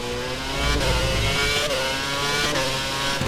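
In the F1 2011 racing game, a Formula One car's engine screams at high revs during a race in Hungary, holding a loud, sustained whine with brief stutters as it bounces off the rev limiter.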